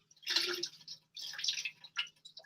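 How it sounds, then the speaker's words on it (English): Tap water poured into a cooking pot on a home stove, heard as two close, bright splashing pours of about a second each, with a short trickle at the end and no talking. "so let's put some water"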